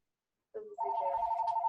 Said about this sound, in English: I don't even know why that phone is ringing.